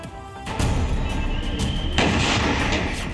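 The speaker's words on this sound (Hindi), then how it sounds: "एक धमाका और 4 मंजिला इमारत मलबा बन गई।" A controlled blast brings down an illegal four-storey building in Indore, heard as a sudden loud boom followed by a sustained roar of collapsing rubble, with a second surge partway through and no speech.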